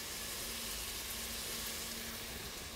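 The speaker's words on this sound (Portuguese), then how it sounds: "E vamos dar uma boa fritadinha nisso aí, para esses sabores se combinarem." Cumin, bell pepper and garlic fry in a pan for a black bean chili, giving a steady, close, even sizzle that runs throughout with no talking.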